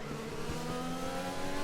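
A Formula 1 race car engine in the F1 2020 racing video game holds a steady, high, buzzing whine, loud and continuous for under two seconds.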